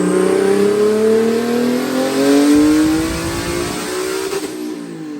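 A single-turbo Nissan 370Z engine revs hard on a dyno, pitch climbing steadily in a loud, close pull before easing off near the end.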